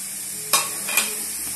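Samosa filling with masala powder sizzles in a pan, and two quick scraping stir strokes cut through the steady hiss.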